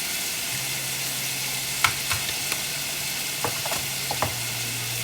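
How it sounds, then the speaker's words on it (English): Ginger garlic paste sautéing in a pan for chicken chukka: a steady soft sizzle throughout, with a few brief stirring scrapes and clinks standing out near and alone, no talking. "So we're going to give it a nice mix. Mix it for about, saute this for about 1 minute."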